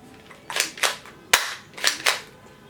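A Nerf toy gun fires soft foam bullets in five quick sharp pops at roughly even intervals, close and fairly loud, with no voices.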